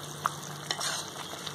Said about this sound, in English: Yes, this is simmering.